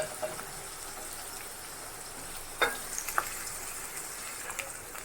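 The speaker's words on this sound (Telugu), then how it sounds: "ఆనియన్స్ అన్నిటిని కూడా మనం ట్రాన్స్ఫర్ చేసుకుని రోస్ట్ చేసుకోవాలి" Onions sizzle and roast in a hot pan for lemon semiya, a continuous crackling hiss with a few scraping stirs breaking through.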